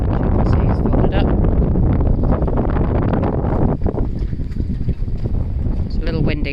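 Strong wind buffeting the deck of a Bavaria 46 Cruiser sailboat, loud and gusty with heavy rumbling noise that swells and dips throughout, plus some light rustling and knocking.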